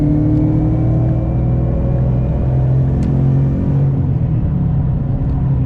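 A Whipple-supercharged 5.0 car accelerates hard to pass on the freeway, its loud, steady engine drone and rising rumble filling the cabin continuously with road noise underneath.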